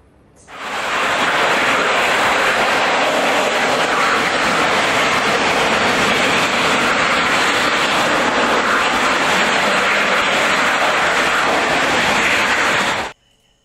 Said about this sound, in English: What you just saw is a ground test firing of RCS engine.